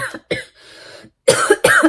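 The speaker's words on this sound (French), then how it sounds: "j'arrête pas de tousser. Je tousse." A woman coughs several times in quick bursts, two short coughs, a breathy pause, then two louder harsh coughs close to the microphone.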